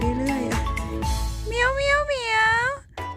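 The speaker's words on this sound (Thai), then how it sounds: "และเขาก็จะร้องเมี้ยวเหมียวอยู่ตลอดเวลานะคะ" A cat stuck high in a large oak tree meows repeatedly, several drawn-out, wavering cries close by, with a long rising-and-falling meow in the middle.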